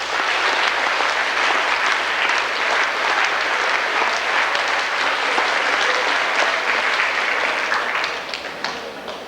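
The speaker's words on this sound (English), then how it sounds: "So, should give him a big clap." An audience claps loudly and steadily for a scholarship winner at a university awards presentation, the applause dense and sustained for about eight seconds before thinning out at the end.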